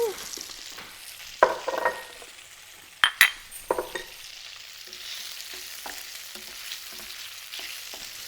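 Garlic, dried shrimp and tofu sizzle in a hot pan for pad thai, a steady low hiss punctuated by a few sharp metallic clinks and scrapes of the utensil.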